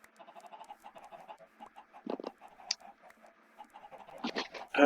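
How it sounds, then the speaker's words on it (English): Chickens cluck and squawk in modded Minecraft, a run of short, close calls at a steady pace with a few louder, sharper squawks near the end. "We're gonna leave these chickens run wild for now"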